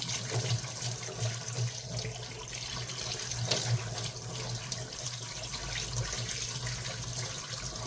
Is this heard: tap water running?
yes